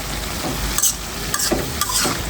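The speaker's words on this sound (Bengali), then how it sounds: "একটু নেড়ে চেড়ে দিয়েছি" Winter cabbage frying in a pan, a continuous hiss of sizzling oil broken by a few soft scraping stirs.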